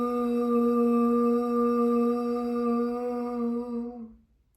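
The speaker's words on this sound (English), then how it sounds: "as you breathe out, you make a sound, but the sound is actually here in your throat" A steady hummed vooing tone on an out-breath, with throat vibration, held close and even for about four seconds before fading into silence.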